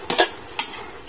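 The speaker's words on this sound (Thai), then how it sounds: "นี่ผัดเครื่องแกงครับผม" Thai curry paste being stir-fried in a pan for a bamboo shoot curry, heard as two short bursts of scraping and clinking of a utensil against the pan, fairly close and quiet, with no talking.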